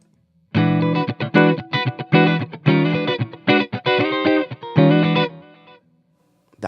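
Electric guitar strummed with a thin pick through an amp, a run of loud choppy chords with short gaps between strokes, up close and alone, ending in a brief fade.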